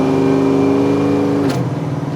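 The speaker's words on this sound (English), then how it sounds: "Brent did an awesome job hooking up this exhaust. It sounds sweet, doesn't it?" Big-block V8 in a 1970 Ford Mustang Fastback with a Summit aftermarket exhaust, heard close and loud: a steady, throaty rev holds for about a second and a half, then drops sharply back toward a lumpy idle.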